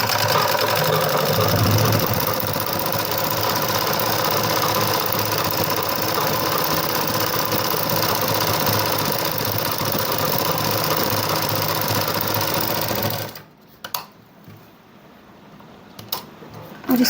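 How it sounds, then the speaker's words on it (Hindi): A sewing machine top-stitches along a coat collar with a steady, close mechanical whir and chatter for about thirteen seconds, then stops abruptly, leaving near silence broken by a few faint clicks. "यहाँ कॉलर पर भी एक टॉप स्टिच लगा देंगे इस तरह से।"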